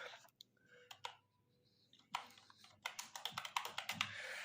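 Clicks from a computer mouse or keyboard at a desk, sharp close taps scattered irregularly and then in a quicker run of steady clicks.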